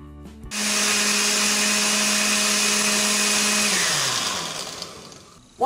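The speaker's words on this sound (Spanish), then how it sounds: "Vamos a licuar todos los ingredientes." A kitchen blender whirs loudly and steadily while blending pineapple, cucumber, ginger, aloe vera and water, then the motor winds down and stops after about four seconds.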